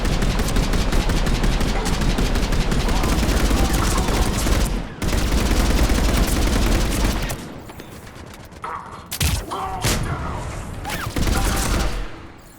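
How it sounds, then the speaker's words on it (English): Loud, dense gunfire and explosive mortar blasts rage nearly without pause during a combat mission against Cerberus in the sci-fi game Mass Effect 3, dropping out briefly before resuming in heavy bursts. "Commander, we're getting a lot of mortar fire."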